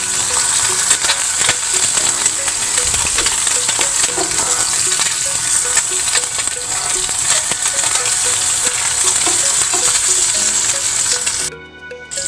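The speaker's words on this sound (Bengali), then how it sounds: "তো এখানে ভাত ভাজার জন্য পেঁয়াজ আর মরিচটাকে ভেজে নিচ্ছি" Onions and green chilies frying in a little oil for fried rice, a loud, steady close sizzle with faint crackles and spatters, cutting out abruptly at the end.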